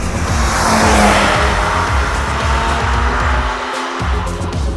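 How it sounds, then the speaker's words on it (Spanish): Ford Probe 24V engine revving hard under acceleration, a loud, close engine note climbing and holding with a brief drop near the end, tire noise mixed in and no talk. "ir viendo cómo se crea la potencia y cómo va sonando el motor"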